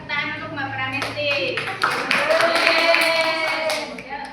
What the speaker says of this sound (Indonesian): beri tepuk tangan untuk Mbak Pramesti